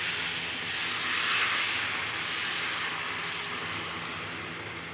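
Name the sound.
batter poured onto hot griddle sizzling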